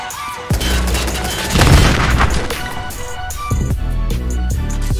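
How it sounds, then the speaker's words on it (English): A modded car explosion in Fallout 4, a loud, deep boom followed by rolling, crackling blasts and a bass-heavy rumble that swells and then decays over a few seconds. "this mod reworks new atmospheric reflections for exterior and interior cars stage 2 explosion"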